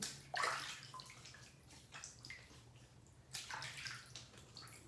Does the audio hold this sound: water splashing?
yes